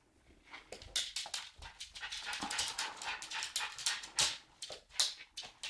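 A West Highland White Terrier puppy whimpers and pants in quick, uneven bursts, with soft yelps and breathy sounds close by and no one talking.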